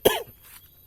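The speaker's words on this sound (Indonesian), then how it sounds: "Masih batuk-batuk ya" A single sharp cough from a person with a sore throat, loud and close, followed by a short, fading rasp and then near silence.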